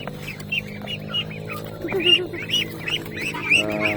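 Repeated high, squeaky peeps from several ducklings, chirping in short irregular bursts over a low steady hum.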